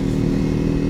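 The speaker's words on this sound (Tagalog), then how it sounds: "sobrang dami ng motor" Steady, loud, close engine rumble from heavy motorcycle traffic on the Marilaque highway in the morning, a continuous dense drone with no talking.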